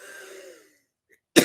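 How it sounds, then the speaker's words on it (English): A single sharp cough bursts out close to the microphone right at the end, after a trailing voice and a short silence. "I was going to try to mute before I coughed"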